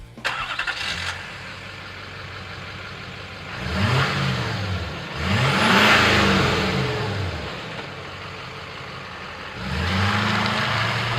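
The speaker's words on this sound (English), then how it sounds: "it will typically produce a mild interior sound level while providing a subtle, deep exterior tone." Heavy-duty 2007–2010 GM truck fitted with a Flowmaster Force II dual exhaust and polished stainless tips, revving in repeated deep bursts that rise and fall between pauses, the steady engine note loud and close.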